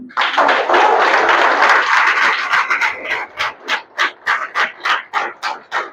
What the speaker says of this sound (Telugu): క్లాప్స్ ఇవ్వచ్చు దీనికి